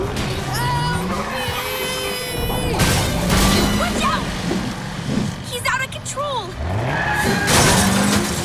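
Cartoon cat car from an animated kids' superhero show speeding off, with engine revving, tire squeals and skids amid excited character voices and music.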